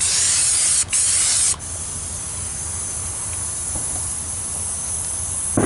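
A spray can lays a second coat of lacquer paint on a wheel, a loud continuous close hiss with a couple of brief breaks early on.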